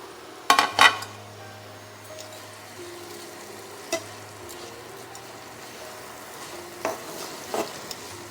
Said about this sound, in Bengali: এবার আমি এই টমেটোগুলো দিয়ে দেব।